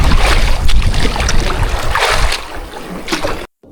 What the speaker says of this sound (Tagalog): Alaki ng mga alon